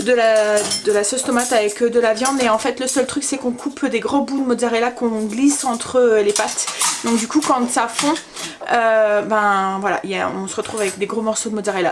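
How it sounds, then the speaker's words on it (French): Cutlery clinks and clatters as it is put away while a dishwasher is emptied in a home kitchen, light metallic rattling in the background beneath someone speaking French continuously up front. "Donc du coup elle range les couverts et ça fait un petit peu de bruit."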